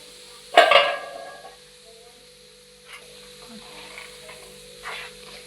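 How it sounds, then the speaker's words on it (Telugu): A sharp sizzle erupts as tempering spices hit hot oil for chicken pickle, then fades to a quiet hiss with occasional light clinks of a utensil. "ఇలా పోపు వేసింది మొత్తం మిక్స్ చేయాలి"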